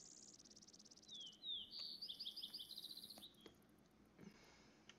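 Bird ambience from the hunting game theHunter: Call of the Wild: bright chirps and warbling song trill through the middle, with a quick tapping burst toward the end that fits a woodpecker, all fairly faint and without talk.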